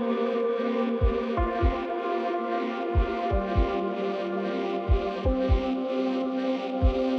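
The chord progression from a track plays as layered, sustained chords. Deep, irregular kick thumps fall in small clusters beneath it throughout.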